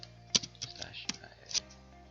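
A computer keyboard clicks with a few sparse keystrokes as a Windows Command Prompt command is typed, quiet taps faintly audible over a low background hum.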